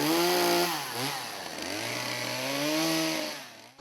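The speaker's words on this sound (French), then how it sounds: "Leçon numéro 1, apprendre à manier une tronçonneuse" A chainsaw runs loud and close, its engine pitch dipping and rising as it works into wood, then cutting off abruptly at the end with no one talking.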